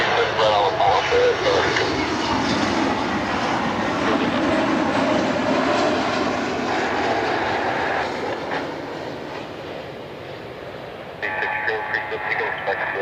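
A Frontier Airlines passenger jet, inbound to Cleveland Hopkins from Fort Lauderdale, roars loudly overhead in a steady broad rush that slowly eases off and then rises again near the end.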